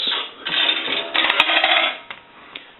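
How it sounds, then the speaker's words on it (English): A quarter drops into a Western Electric 233G three-slot payphone and clatters through the coin mechanism in a few bursts of metallic rattling, followed by a faint ring, close and fairly loud with no talking. "Now the quarters will gong once."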